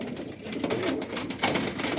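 Pigeons cooing near and loud, a steady throaty murmur from a loft where a large, unusual post-type pigeon with an Israeli-style head is kept among birds about to be flown.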